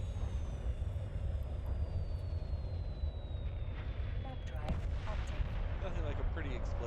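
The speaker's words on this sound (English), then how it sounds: "Nothing like a pretty explosion." Rumbling explosion in a space video game during wormhole exploration, a broad low roar that holds throughout with crackling bursts near the end and a faint descending whine above.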